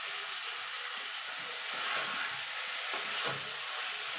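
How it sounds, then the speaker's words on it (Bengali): Boiled potatoes and spices for doi aloo stir-fried in a pan hiss in a steady, close sizzle, with soft swells where the mixture is turned, and no talking. "মিনিট খানিক ধরে এইভাবে আলু আর মশলাটা কষিয়ে নেব"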